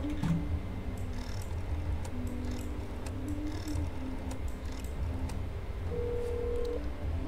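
Telephone keypad dialing in the horror game That's Not My Neighbor, a series of short tones over a steady low hum, ending in one longer tone.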